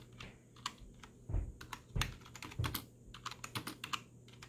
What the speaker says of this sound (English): Let's try to type again.